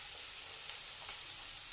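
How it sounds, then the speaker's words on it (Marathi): Chopped potato dropped into a pan of fenugreek leaves, a steady faint hiss of frying oil that sizzles evenly throughout with no voices. "आता आपण चॉप केलेला बटाटा याच्यामध्ये टाकूया।"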